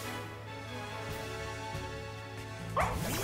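Fidough, the donut dog Pokemon from the video game Pokemon Violet, gives a faint yip near the end, over steady game music and a low hum.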